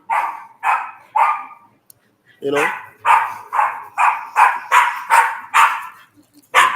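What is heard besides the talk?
dog barking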